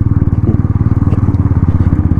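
A motorcycle's engine pulses loud and close in a quick, even rhythm as the bike rides over a broken, stony mountain road at Sach Pass, with a voice faintly present underneath.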